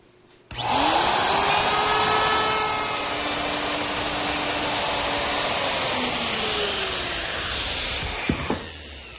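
A router cuts a slot for T-bolts into a wooden router table top, a loud sustained whining roar that starts abruptly, holds with a faintly falling tone for several seconds, then winds down with a few clunks.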